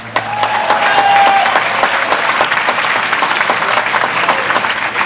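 Audience applause at the Sapolin Awards ceremony with Mayor de Blasio, a steady crowd of clapping hands that stays dense and loud for the full stretch with no voices over it.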